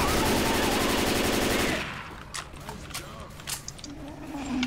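Rapid automatic gunfire from the zombie shooter Left 4 Dead 2 rattles loudly in a dense burst, then breaks off into scattered single shots and clatter.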